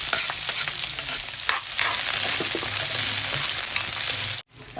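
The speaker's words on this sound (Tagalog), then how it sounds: "Sunod, magigisa ako dito ng bawang at sibuyas." Garlic and onion sauté in a pan for pancit canton, a loud continuous sizzle with stirring scrapes that stops abruptly near the end.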